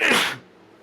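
A single sharp human sneeze bursts out loud and close, lasting about a third of a second before fading into quiet room tone.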